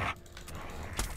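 A dog in the medieval game Kingdom Come: Deliverance yelps sharply as it is struck by an arrow, one short, close cry with a second burst just after.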